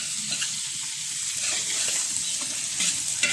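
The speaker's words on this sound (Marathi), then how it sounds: "वरणाची फोडणी देणं आहे ना।" Spices crackle and sizzle in hot oil in a small kadhai while tempering dal, a close, continuous frying hiss with occasional sharper pops and stirring.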